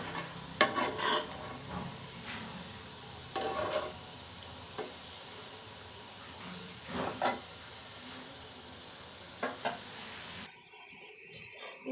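Taro (kochu) bhaji frying in a pan, a steady low sizzle broken by several scraping stirs of a spatula, quiet and close, ending with a brief change in the background.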